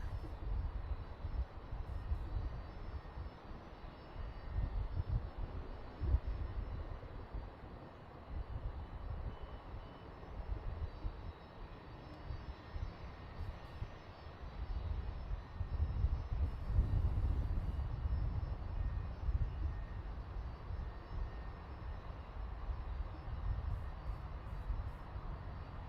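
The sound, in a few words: airplane landing at Boeing Field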